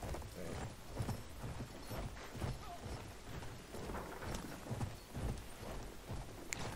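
Hooves pound rhythmically as a horse gallops across a desert battlefield in Battlefield 1, steady clip-clop under a dense, noisy mix of game sound with no talk.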